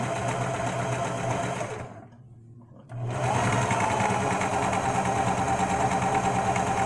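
A sewing machine stitching runs as a steady close whirring hum, stops for about a second, then starts again and keeps running evenly.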